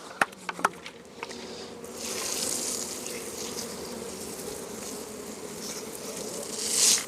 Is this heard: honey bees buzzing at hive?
yes